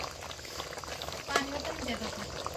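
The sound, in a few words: Satara-style chicken curry (rassa) boiling on a wood-fired stove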